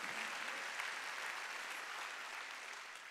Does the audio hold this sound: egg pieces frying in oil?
no